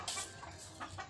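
Backyard chickens cluck softly nearby, a few short, quiet clucks in quick succession with light ambient noise and no talking.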